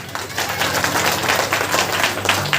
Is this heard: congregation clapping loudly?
yes